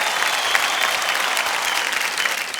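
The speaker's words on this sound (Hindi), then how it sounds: "एक बार फिर तालियों के साथ हम इनका स्वागत करते हैं" Studio audience applause welcoming guests on the TV quiz show Kaun Banega Crorepati, a steady dense clapping that holds at an even level throughout.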